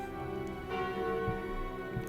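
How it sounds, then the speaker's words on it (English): The Calling Bell relic in the video game Slay the Spire gives a resonant bell chime. One sustained metallic tone rings and slowly decays, alone and fairly close, with faint low thuds beneath. "Calling bell."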